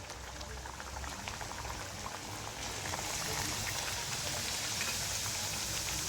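Puris deep-frying in hot oil in a kadhai, a steady dense bubbling hiss that swells louder partway through and holds, close up with no talk.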